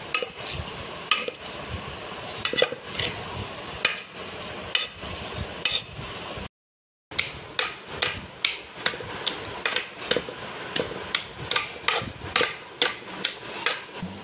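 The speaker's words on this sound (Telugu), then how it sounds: "ఈ స్టీల్ కాడ సహాయంతో దీన్ని మెత్తగా చేసుకుంటాం ఫ్రెండ్స్ మిక్సీకి వేయడానికి" A steel spoon mashes cooked carrot in a bowl with rhythmic, regular tapping and scraping strokes that repeat steadily, broken by one short silent gap partway through.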